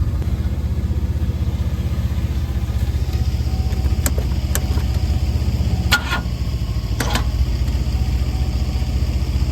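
A 1993 Oldsmobile Cutlass Ciera engine runs at a steady, loud idle close by, a constant low hum, with a few faint clicks and taps over it and no voices.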